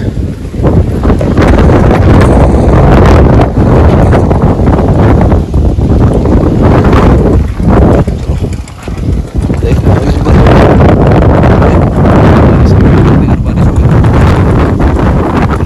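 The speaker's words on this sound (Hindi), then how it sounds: "हवा बंद ही नहीं हो रही थी" Heavy wind buffeting a microphone, a loud continuous low roar with gusty surges throughout and a brief lull in the middle.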